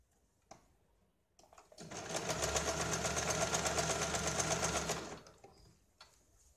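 A sewing machine runs one steady burst of about three seconds while joining a blouse shoulder seam. Soft handling clicks come before it and a quiet pause follows.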